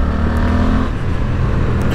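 A Suzuki GSX-8S motorcycle engine holds a steady, loud, close drone at about 4000 rpm in third gear, with a constant hum and wind rush and no talking.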